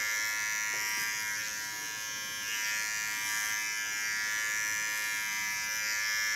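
An electric hair clipper buzzes steadily while cutting nearly dry hair during a haircut, a continuous close-up whine with slight dips in intensity and no talk over it.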